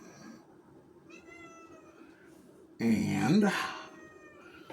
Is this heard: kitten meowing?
yes